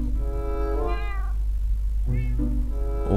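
Cats in the Minecraft video game meow clearly, a drawn-out call followed by a couple of shorter ones, over a steady low electronic hum with no talking.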